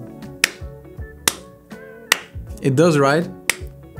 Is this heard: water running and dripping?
no